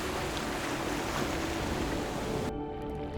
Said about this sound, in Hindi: बड़ी बड़ी सुनामी लहरें,